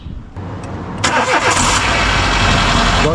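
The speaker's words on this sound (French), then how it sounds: "Donc là elle a bien démarré." A Dacia Sandero engine cranks briefly and catches after a battery replacement, then settles into a steady, close idle that continues to the end.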